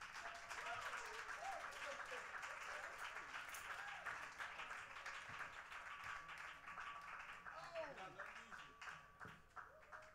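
An audience at a pre-show event applauding steadily, with dense continuous clapping heard from a distance while a voice speaks over it.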